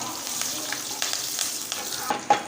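Mustard seeds, asafoetida and curry leaves crackle and sizzle in hot oil in a pan, a steady close frying hiss with small pops and a sharp spit near the end.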